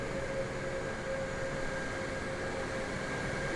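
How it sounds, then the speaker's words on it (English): Steady broadband whir of wing flaps moving on a Boeing 747-8F freighter in a flight simulator, a continuous airy hum with a faint tonal whine, constant level throughout with no voices. "Hear those flaps moving."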